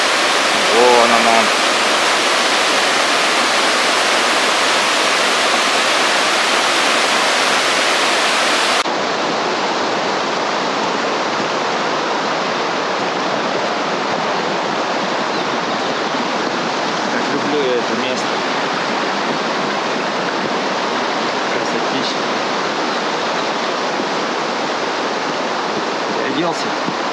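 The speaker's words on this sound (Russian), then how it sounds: "Там водопадик." A small mountain waterfall in the Khamar-Daban range rushes with a steady, even broadband roar, close and constant, its tone thinning slightly partway through.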